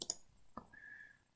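Computer mouse clicks while working in PowerPoint on a photo link, two quick sharp clicks close together then another single click, near and clear in a quiet room with no talking.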